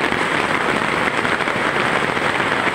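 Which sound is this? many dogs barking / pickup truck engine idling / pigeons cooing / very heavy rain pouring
very heavy rain pouring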